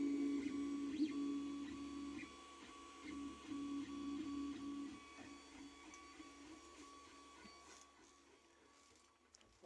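A 3D printer prints a part with a steady, fairly quiet hum. Motor whines shift pitch as the print head moves, and the sound continues alone until a small knock at the end.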